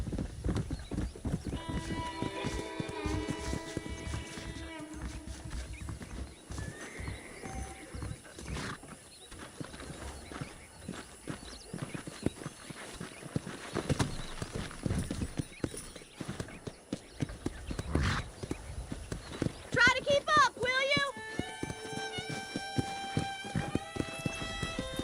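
Horses in the Red Dead Redemption video game clop along in steady hoofbeats, with several whinnies and neighs standing out near the end over faint background game sounds.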